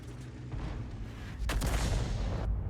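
A tank shell fires and strikes a rock in World of Tanks, a sudden heavy boom and crack that rings out after a low, rumbling background. The blast stays loud to the end.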